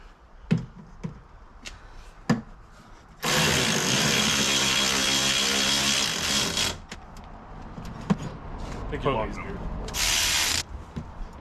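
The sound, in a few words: driving screws into the side of an old motorhome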